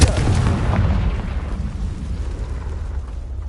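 Booming blast of the Confringo fire spell in the Hogwarts Legacy video game, a loud explosive burst at the start that rumbles and fades away over a few seconds.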